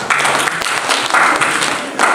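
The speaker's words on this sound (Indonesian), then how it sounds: "Berikan tepuk tangan buat." A church congregation applauding at a prayer and fasting gathering on Mount Salak in Bogor, a short burst of dense, steady clapping from many hands in a reverberant space.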